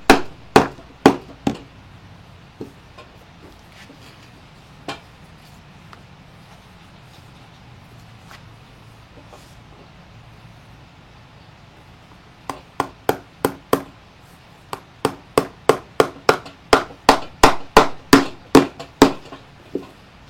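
A hammer drives nails into wood: a few scattered knocks at first, then after a quiet stretch a quick, steady run of sharp, close blows.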